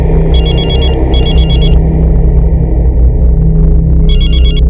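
A telephone rings during a call: trilling electronic ring bursts in two quick pairs and then again, loud and close over a steady low rumble, with no talk.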